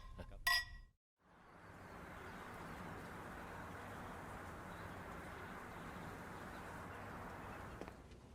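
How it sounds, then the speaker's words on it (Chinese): Drinking glasses clink together in a toast at a family dinner: one short, bright chink near the start, then a steady, moderately loud background hum of the room. "干杯！"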